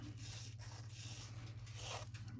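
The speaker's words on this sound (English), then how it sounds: "So I'm just filing around the edges because I want the gel to grip" A 240 grit file rubs around the edges of gel press-on nails in soft, repeated rasping strokes, close and fairly quiet, with no talking.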